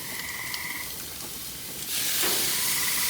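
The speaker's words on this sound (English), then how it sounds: "Listen to that sizzle." Marinated chicken thighs hit the hot grates of a Monument Grills Denali 605 Pro infrared gas grill, and a steady hiss swells into a loud, close, continuous sizzle partway through.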